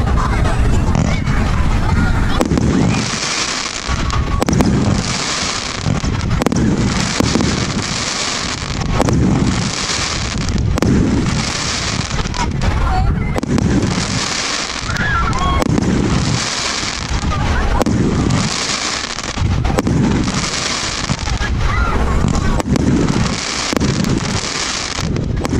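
A Skybreaker 36-shot firework cake, rated 1.3G, fires outdoors in a rapid run of loud booming bursts under steady wind noise, with crowd chatter in the background.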